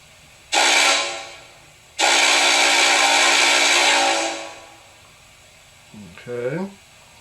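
A steam whistle from an HO-scale Fox Valley Models Norfolk & Western Class J #611 Spirit of Roanoke locomotive gives two loud, sustained blasts, a short one and then a long one, with brief speech following.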